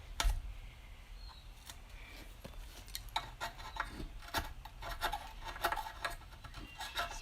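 A pocket knife scrapes old gasket material off the sump of a Tecumseh engine in short, uneven rasping strokes and scratchy clicks, fairly close but quiet, with no voices.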